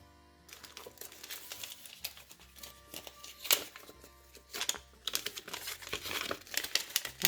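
A sheet of gold foil crinkles and rustles as it is handled and laid onto a card mat, a series of sharp crackling bursts up close, some louder than others, with no talk.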